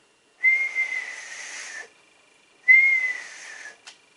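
Someone whistles two long steady notes into a CB radio microphone during an upper sideband power test, each about a second and a half long with a short pause between, heard clearly over a quiet background.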